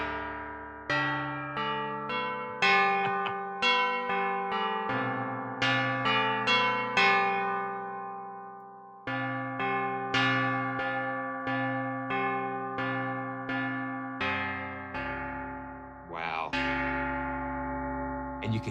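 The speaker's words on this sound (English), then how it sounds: "These are plate bells with a hammer." Metal plate bells struck with a hammer, ringing out one after another in an irregular sequence, each strike sustaining bright overlapping tones that decay slowly, loud and close with no talking.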